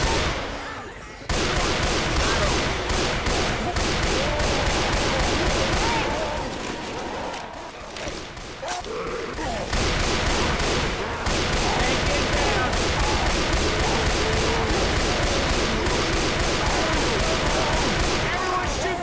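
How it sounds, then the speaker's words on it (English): Gunfire in the video game Left 4 Dead 2 during a survival round: dense, rapid, loud volleys of shots that run almost continuously, with a brief lull in the middle and voices talking over them. "Everyone shoot the tank!"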